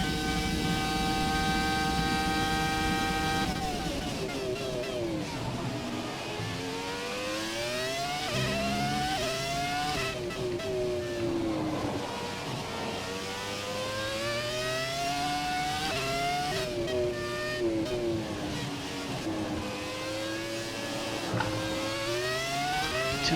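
Loud, sustained howl of a Formula 1 race car engine in F1 2017, revs sweeping up and down through repeated gear changes with steady, close cockpit presence and no pauses.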